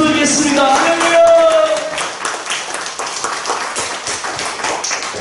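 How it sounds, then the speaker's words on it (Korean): Church congregation applauding to give glory to the Lord, a burst of clapping under a preacher's voice that fades into scattered claps after a couple of seconds. "주님께 영광의 박수 드리겠습니다"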